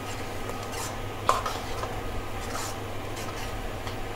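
Masoor dal sautéed in a pan, a steady soft scraping and stirring with a faint sizzle underneath and one small clack of the utensil against the pan.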